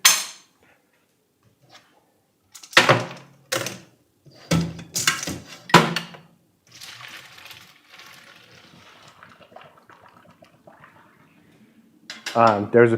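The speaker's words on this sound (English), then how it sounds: "Pasta looks good. I'm gonna strain it." Pasta draining into a strainer holding ice brings loud metallic clanks and clatters of a pot against the colander, then a softer watery rush and rattling, with a final burst of clinking.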